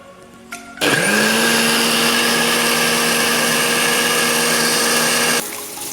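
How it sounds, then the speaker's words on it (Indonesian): An electric blender grinding dried chilies and bird's eye chilies for rendang switches on abruptly and roars at a loud, steady whine for about four and a half seconds, then cuts off, with no talking. "untuk cabai kering sama cabai rawitnya kita blender dia sampai halus sekali ya"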